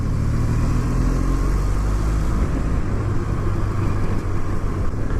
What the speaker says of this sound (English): This is the first sort of modern retro bike I've ever ridden.